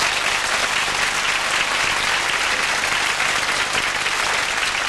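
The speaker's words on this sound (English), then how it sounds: "a round of applause for two amazingly marvellous people" A television studio audience at a 1984 Jim'll Fix It taping gives a sustained, dense round of applause, steady and loud throughout with no break.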